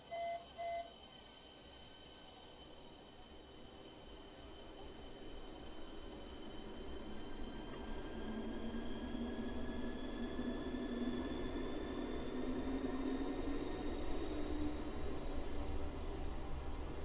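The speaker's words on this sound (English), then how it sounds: "Let's get this train moving." Class 395 train in Train Sim World 2 pulling away, a low rumble and electric whine that swell steadily as it gathers speed, preceded by two short tones at the start, no talking.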